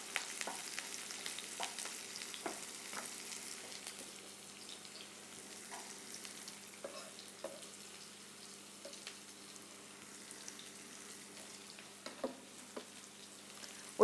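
Onion softening in a pan with garlic going in, a faint, steady sizzle with scattered soft clicks and stirring knocks, no voices.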